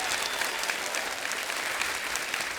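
A studio audience at a comedy talk show applauds the arriving guests with dense, steady clapping that stays loud and unbroken throughout.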